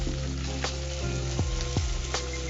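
Tomatoes sauté in a pan for a gram-flour kadi, giving a steady close sizzle with a few soft stirring scrapes and no talk.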